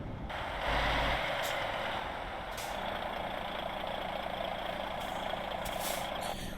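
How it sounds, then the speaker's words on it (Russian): A simulated heavy truck in Euro Truck Simulator 2 brakes hard with air brakes over a continuous engine and road rumble. A louder surge comes early, then a steady, moderately faint drone continues with a few short hissing bursts. "Ну, резкий тормоз"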